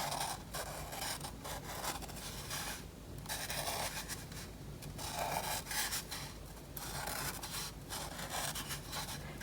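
A pen or marker rubs and scratches across a cardboard toilet paper tube as a wavy scalloped line is drawn, a close, continuous scraping in repeated strokes with short pauses, with no talking.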